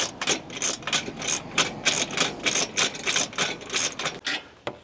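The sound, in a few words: ratchet wrench tightening rooftop tent mounting hardware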